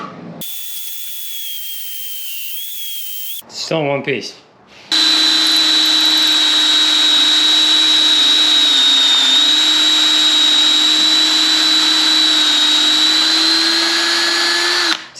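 A drill bores into a wooden pipe blank held under firm compressive pressure. A short high whine comes first, then a brief spoken remark, followed by a long, steady, loud droning run.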